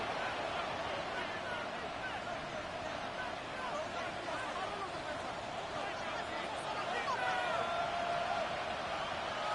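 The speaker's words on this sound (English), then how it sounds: "This crowd making its presence felt early." A football stadium crowd at a Washington Commanders game keeps up a loud, steady roar and murmur that swells slightly toward the end, with no clear talking over it.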